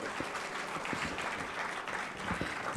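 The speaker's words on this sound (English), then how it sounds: "Can we have a round of applause for Sir" An audience at a university welcome event for a visiting delegation gives a round of applause, moderately loud and steady, with a few sharper individual claps standing out from the crowd.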